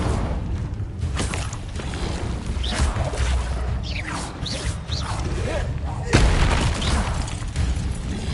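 Fire spell effects from Hogwarts Legacy crackle and whoosh in a busy game mix, with rumbling booms and a louder burst partway through, all over continuous background game sound.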